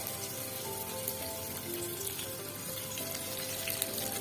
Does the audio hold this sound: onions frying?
yes